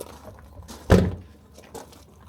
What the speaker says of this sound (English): let's just shut the door and see